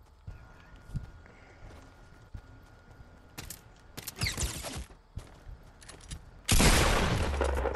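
Scattered gunshots in Fortnite Battle Royale mix with clattering footsteps and small thumps, building from sparse faint pops to a loud, sustained burst of fire at the end.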